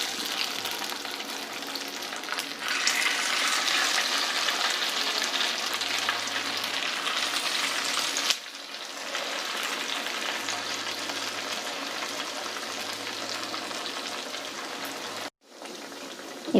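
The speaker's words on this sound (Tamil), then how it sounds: "இப்போ வாங்க இதை பொரிச்சு எடுத்துக்கலாம்" Kerala-style pathiri frying in hot oil in a kadai, a dense steady hiss of bubbling oil that runs on with a short dip midway and a brief break near the end, close and continuous, no talking.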